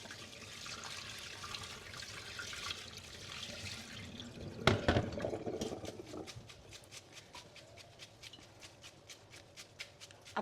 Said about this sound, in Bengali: এখন এখানে ঠান্ডা পানি ঢেলে দিব।